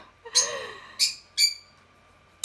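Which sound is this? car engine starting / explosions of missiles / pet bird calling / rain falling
pet bird calling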